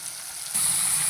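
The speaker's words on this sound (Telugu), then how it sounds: "పచ్చిమిర్చి ఆనియన్ వేసేసుకొని ఫ్రై చేసుకున్నాం." Onion and green chillies fry in oil for an egg and raw mango curry, a steady sizzle that suddenly grows louder and brighter halfway through, close with no voices.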